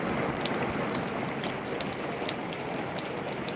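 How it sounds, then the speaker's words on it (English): Heavy rain from a torrential thunderstorm downpour pours steadily in a dense, continuous wash of hiss and patter, with no voices. "you missed a torrential downpour"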